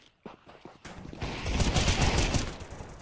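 Rapid automatic gunfire in CS:GO bursts out after a quiet start, growing into dense, loud volleys of sharp cracks that crowd together through most of the stretch.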